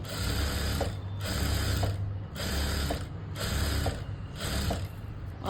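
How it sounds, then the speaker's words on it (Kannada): A sewing machine stitches a straight seam on a blouse sleeve, running in steady whirring bursts of about a second each with brief pauses, close and moderately loud. "ಸ್ಟಿಚ್ ಮಾಡೋದಕ್ಕೆ ಕರೆಕ್ಟ್ ಒಂದೇ ನೇರಕ್ಕೆ ಸ್ಟಿಚ್ ಮಾಡ್ಕೊತಾ ಇದ್ದೀನಿ ಇಲ್ಲಿ"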